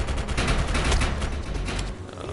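Shotgun fire in the video game Defiance 2050 comes as a dense, loud barrage of overlapping blasts and booms, sustained nearly without pause before easing slightly near the end.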